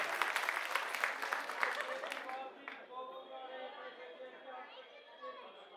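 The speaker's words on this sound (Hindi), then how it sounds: "इनके लिए ताली बजाओ" An audience at a political rally speech by an MP in Mundka, Delhi, claps in a dense burst for about two seconds, then the applause dies away as a voice and crowd murmur carry on.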